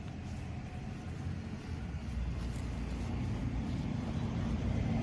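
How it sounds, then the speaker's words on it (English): A school bus drives past outdoors beside a walkway garden border, a steady low engine rumble that swells slightly as it nears, heard alone with no talk. "Oh, school bus."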